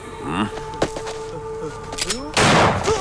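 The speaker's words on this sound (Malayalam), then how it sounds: "പോലീസുകാരൻ എന്തിനാ വെടിവെച്ചത്" One gunshot bursts out in a dubbed action film, loud and sharp near the end after tense tonal sounds and voice-like murmurs.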